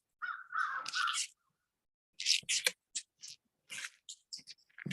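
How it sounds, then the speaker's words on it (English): Several crows caw in loud, harsh bursts, a long run of calls followed by shorter scattered caws, fairly close and with no talking. "those crows, there's a whole slew of them that got raised up together across the lake"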